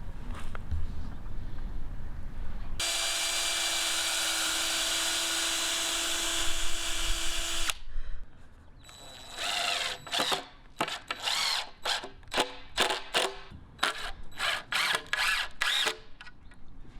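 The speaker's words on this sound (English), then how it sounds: "we'll be pre-drilling all the holes before we install the screws" A power drill pre-drills holes in wood for garage storage shelf frames: one long steady whine of about five seconds, then a series of short, sharp bursts of drilling, close up with no talk.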